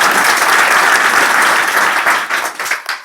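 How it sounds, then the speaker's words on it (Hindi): An audience of children and adults at a school talk claps loudly and steadily, the applause thinning into scattered claps before fading out. "एक बार जोरदार ताली।"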